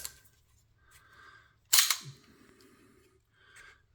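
The slide of an IWI Jericho 941 pistol being racked, a single sharp metallic clack close to the microphone, with faint handling noise before and after.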